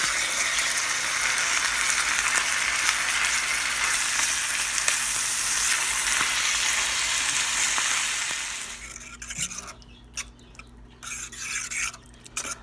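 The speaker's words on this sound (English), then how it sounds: "we're just going to let that simmer and bubble up for a few minutes" A blended orange-pepper sauce for a mushroom spaghetti bake simmers in a pan, giving a loud, steady sizzle for about eight seconds before dropping to a quieter bubbling with scattered clicks.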